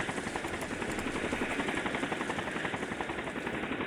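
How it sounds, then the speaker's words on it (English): Helicopter rotor in the visual novel game Higurashi: a loud, steady, rapid chopping drone with dense broadband roar, heard alone without speech. "The rotor sounded much like a tornado"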